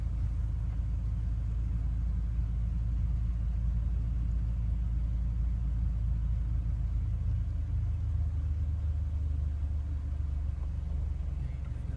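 A manual car's engine rumbles and judders as a learner eases the clutch and applies gas, a deep, steady, close drone holding for about twelve seconds with no talk.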